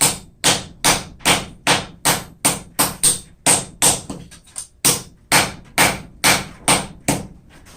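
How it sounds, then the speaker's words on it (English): Rawhide mallet beating a forged steel leaf straight on an anvil: about twenty sharp, evenly spaced blows in a brisk rhythm, loud and close, with no talking. "we'll straighten that out over at the anvil real quick. Just using a rawhide mallet."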